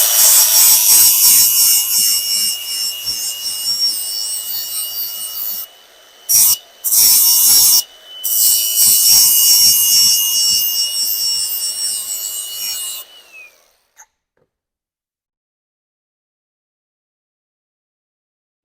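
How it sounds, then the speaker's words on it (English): A flap disc on a grinder sands the edge off a metal part during an engine swap on an E36, a loud harsh abrasive grinding in bursts with short pauses, then it winds down into silence. "I'll take my flapper along the back of this"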